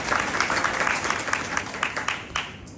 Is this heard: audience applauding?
yes